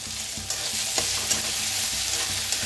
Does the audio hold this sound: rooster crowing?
no